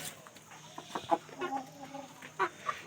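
A hen clucks in a run of short, close clucks and murmurs at an uneven rhythm, heard alone at a moderate level.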